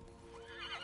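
A horse in the Darksiders 3 action game lets out a brief rising whinny that wavers and swells at the end, heard over a steady bed of game background sound.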